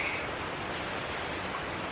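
Rain falls steadily in a park, heard from under a covered shelter as a dense, even hiss that holds at the same level throughout, with no talk.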